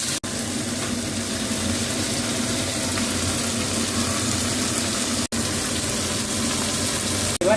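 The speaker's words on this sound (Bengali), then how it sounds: "বিনসগুলো আমি একটু হালকা করে ভেজে নেব," Green beans frying lightly in a pan, a steady, close sizzle with a constant hiss and crackle that runs without a break, only two very brief dropouts.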